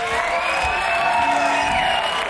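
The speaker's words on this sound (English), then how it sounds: "these people are really applauding without anybody holding up any signs" The audience at a live blues rock concert cheers and whoops loudly as a continuous crowd roar.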